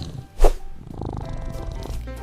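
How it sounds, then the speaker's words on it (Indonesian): A domestic cat gives one short, loud meow near the start, followed by a soft, steady purr-like rumble that continues to the end. "Mereka suka tidur, bermain, dan mengeong."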